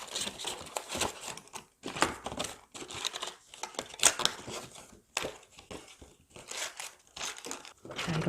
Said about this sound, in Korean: 조각 종이를 끼워서 완성하도록 합니다.